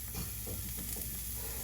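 Olive oil frying in a pan gives a steady, faint sizzle with soft stirring scrapes, heard close with no talk over it.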